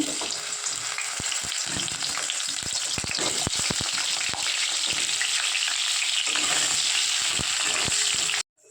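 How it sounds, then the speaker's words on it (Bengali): Potatoes frying in hot oil, a loud continuous sizzle with scattered stirring scrapes and clicks throughout, no voices present. "তো তেলটা গরম হয়ে গেছে, এর মধ্যে আমি আলুটা ভাজা বসিয়ে দিচ্ছি।"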